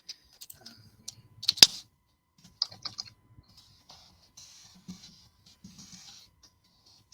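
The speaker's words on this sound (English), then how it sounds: "Wow, typing in front of people, y'all, can be a whole thing." Sporadic typing on a computer keyboard, scattered soft key clicks with one louder tap, in short irregular bursts separated by near silence.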